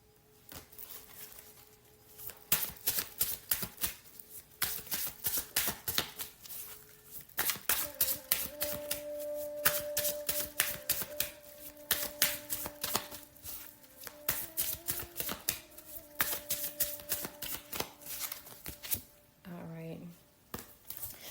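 Tarot cards being shuffled and drawn, a run of quick soft riffling taps and flicks close by, with a person talking and a few tonal beeps partway through.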